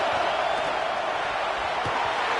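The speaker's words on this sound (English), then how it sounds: "this crowd is getting behind this defense" A stadium crowd at a football game roars steadily for the defense in a dense, continuous wall of cheering and noise with no individual voices standing out.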